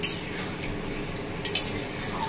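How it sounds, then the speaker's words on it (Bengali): A utensil stirs bhetki fish curry with onion and coriander in a pan, giving a couple of brief metallic clinks and scrapes over a soft, steady background hiss, with no speech. "পেঁয়াজ ধনেপাতা দিয়ে একটু নাড়াচাড়া করে নেবো 1 মিনিট মতো।"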